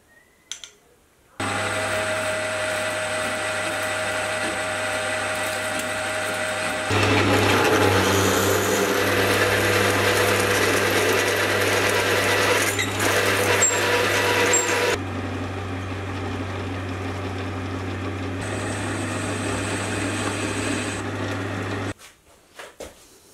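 A milling machine with a dividing head tilted at a slight angle cutting a worm gear, a loud steady motor drone with a cutting tone that shifts in level partway through, starting and stopping abruptly.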